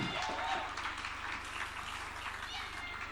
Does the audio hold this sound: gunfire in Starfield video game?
no